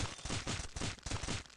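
Rapid bursts of pistol fire in the Stick Warfare Blood Strike video game, about seven sharp shots in quick succession, loud and close with no talk over them.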